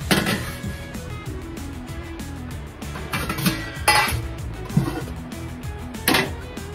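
Dishes clink as a plate is picked up and rice is served at home, with several sharp metallic and ceramic clinks and knocks scattered over a quiet room, close by and fairly soft.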